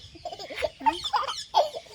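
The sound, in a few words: bird calling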